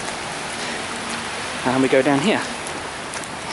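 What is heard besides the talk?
pouring rain while walking the North Downs Way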